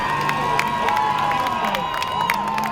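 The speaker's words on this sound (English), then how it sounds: "you can hear the crowd making some noise" Crowd cheering and shouting at a full-contact speed car race, a steady loud roar of voices with whoops rising over it, with no clear engine noise standing out.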